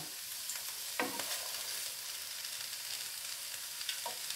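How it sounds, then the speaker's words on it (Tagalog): Pancit bihon with cabbage stir-fried in oil: a soft, continuous sizzle with a couple of distinct scraping stirs, fairly quiet and without speech. "Lagyan natin na yung kunting mantika kasi parang nag-dry siya eh."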